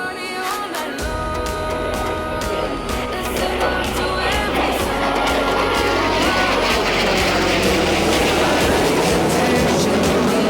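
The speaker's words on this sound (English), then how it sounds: "We've got a typhoon taking off, something's going up." A Eurofighter Typhoon jet takes off at an airfield in Lincolnshire, its engine roar loud and continuous throughout, a broad rumbling blast that builds steadily with no talk over it.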